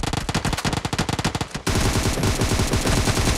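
Automatic weapon fire in the mobile battle royale game PUBG Mobile, loud rapid bursts of evenly spaced shots that give way to a dense, continuous barrage of overlapping gunfire.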